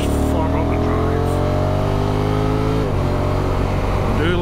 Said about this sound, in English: I do like that roar off that engine.